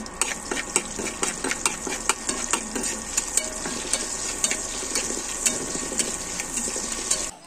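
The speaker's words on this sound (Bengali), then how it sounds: "এই তো আমরা সুন্দর করে পেঁয়াজ মরিচগুলো ভেজে নিলাম।" Onion, garlic and green chili fry in hot oil with a steady close sizzle, broken by frequent sharp clicks and scrapes of a utensil stirring against the pan.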